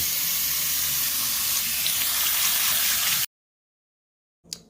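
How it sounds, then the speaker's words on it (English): Rice is being rinsed in a strainer under a running kitchen tap, giving a loud steady hiss of splashing water for about three seconds before cutting to silence and a brief faint noise. "we're going to add the rice to the strainer over here, and we are going to wash it really good"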